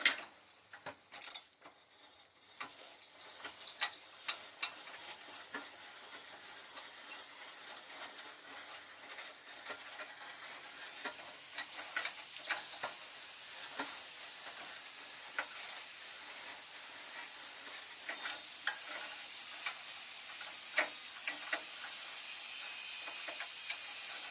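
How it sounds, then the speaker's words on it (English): A 3/8 drive ratchet with a 19mm socket tightens a torsion bar adjuster bolt on a Nissan Frontier, clicking in close, repeated bursts over a faint steady hiss. "Then you use a 19mm socket and use 3/8 drive ratchet. And you just want to take all the slack out of the bolt."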